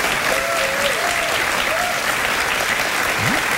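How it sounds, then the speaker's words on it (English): A late-night talk show studio audience applauds steadily after a guest mentions having a baby, a continuous wash of clapping with a few faint voices and whoops over it. "In fairness, I don't know why you're applauding."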